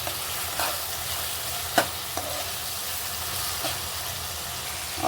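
Lentils tipped into a frying pan with prawns and stirred, giving a steady soft sizzle with scraping stir strokes and a sharp clink near the middle, no talk.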